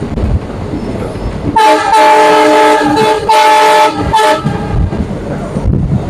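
The 05608 Guwahati–Mendipathar passenger train in Meghalaya sounds its horn loudly in three blasts, a long one followed by two shorter ones, over the rumble of the running train.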